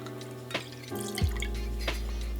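Lemon juice being poured for a cocktail makes a soft liquid trickle and a few drips that build into a steady pour partway through, fairly quiet and close, with no talking.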